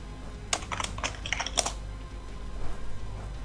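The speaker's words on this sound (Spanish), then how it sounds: "¿A quién será el teclado?" Fingers tap on a computer keyboard in a few quick clusters of crisp keystrokes, fairly faint and close, with no talking over them.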